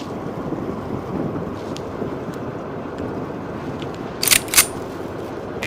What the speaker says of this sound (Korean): 바람 엄청 부네요